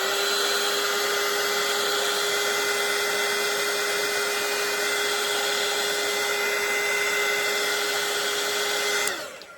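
A hair dryer blows steadily on a wet watercolour painting of potted herbs, a constant loud whine and rush of air running unbroken for about nine seconds before switching off abruptly.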